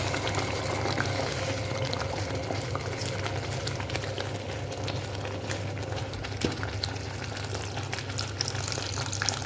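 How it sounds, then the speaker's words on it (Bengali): Spiced gram-flour gravy simmers in a pan, giving a steady, close bubbling and fizzing hiss that stays even throughout, with small pops and no talking. "আর গ্রেভিটা দেখুন ফুটে গেছে।"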